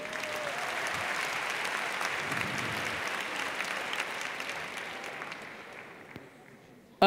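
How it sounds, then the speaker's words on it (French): Sustained audience applause at an international eloquence final, a dense steady clatter of many hands lasting several seconds before fading slightly near the end. "On peut l'applaudir, s'il vous plaît."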